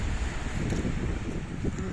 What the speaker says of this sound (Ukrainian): Трішечки вітряно.